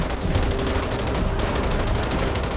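Dense, loud gunfire from the video game GTA V, rapid automatic bursts running continuously without pause.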